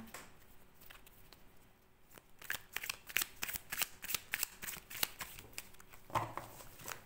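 Lightseers Tarot cards being shuffled by hand, a quiet start followed by a run of crisp riffling and flicking bursts, close and fairly soft, with no talking.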